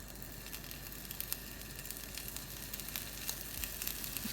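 Mutton seekh kebabs sizzle in a frying pan at home, a soft, steady crackle with small pops that runs evenly throughout, fairly quiet and without voices.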